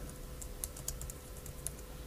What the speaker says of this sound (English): you would just type in add guitar solo